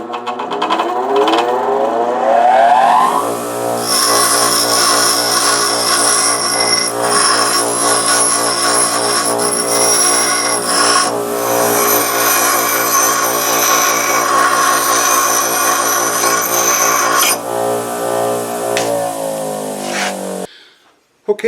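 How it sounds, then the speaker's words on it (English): An angle grinder spins up and grinds the rough ends off steel pieces cut from old bed frame rails, a loud, steady, close whine with harsh metallic tones for about seventeen seconds before winding down. "Just going to grind the rough off the end."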